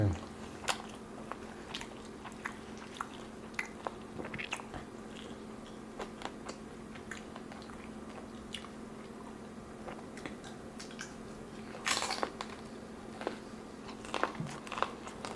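Quiet, close chewing and occasional biting of tacos and loaded steak fries, with soft wet crunches over a steady low hum and no speech.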